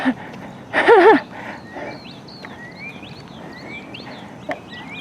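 Several birds sing outdoors, including a mockingbird, with repeated bright chirps and whistled phrases, some distant, after a louder warbling call near the start.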